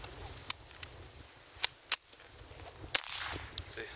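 Sharp, close cracks from a Pietta PPS50 .22 rifle with feeding problems, fired about six times at uneven spacing over a low steady background hum, with no talk.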